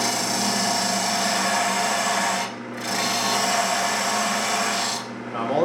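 A bowl gouge cuts a wooden goblet spinning on a lathe, a steady loud hissing scrape that breaks off briefly twice as the tool lifts away.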